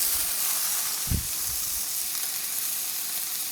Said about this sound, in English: All right, let's cook our bacon.